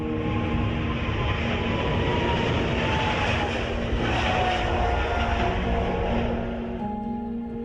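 An airplane takes off with a loud, steady roar of engines and broadband rushing noise and a few droning tones, continuous for several seconds before easing slightly at the end.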